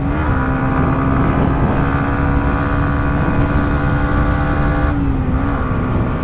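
A Yamaha MT-125 (2021) motorcycle engine holds a loud, steady drone with a brief dip in pitch as it shifts up a gear while riding, close and continuous.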